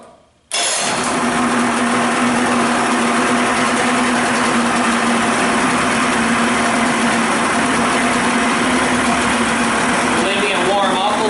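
A small engine with a freshly rebuilt carburetor catches after a short silence and settles into a steady, loud, buzzing idle close by, running without a break for about ten seconds while it warms up.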